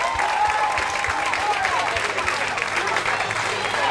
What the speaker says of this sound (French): Serge Polo, que je vous demande encore d'applaudir très fort